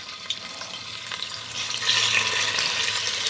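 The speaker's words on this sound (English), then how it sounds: "Now that my oil is up to temp, we'll just go ahead and just start adding these" Chicken pieces sizzle as they drop into hot frying oil for a tetrazzini casserole, a steady crackling hiss that swells louder partway through as more pieces go in.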